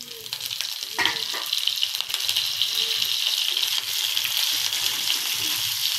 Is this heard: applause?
no